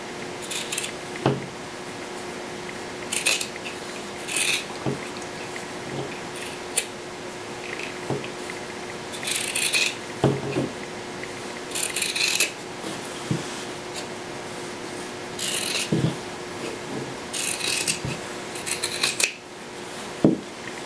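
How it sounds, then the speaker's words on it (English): Scissors snip repeatedly through excess fabric at a sewn shoulder seam, close, crisp cuts in irregular bursts with short pauses, quiet room background and no talk. "I will trim that corner at a slant and then just start trimming away the excess fabric."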